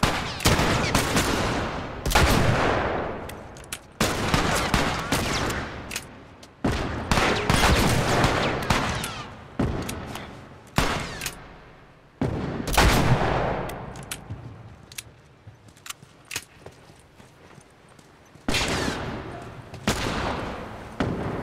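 Heavy gunfire in The Last of Us at Tommy's Dam: repeated loud bursts of automatic fire and single shots echo in dense clusters, with short gaps between volleys and faint voices under the shooting.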